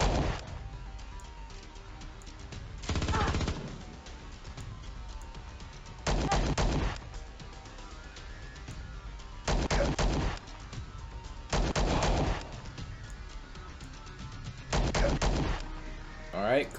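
Pistol fire in the space-combat video game Star Traders: Frontiers: five separate loud shots, roughly one every two to three seconds, each a short burst standing out against a steady low game-music bed.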